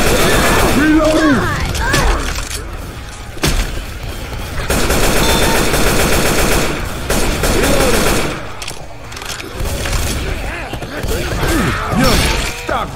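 Gunfire in the zombie shooter game Left 4 Dead 2, with repeated shots and bursts over a dozen seconds mixed with game effects, while players talk over the action.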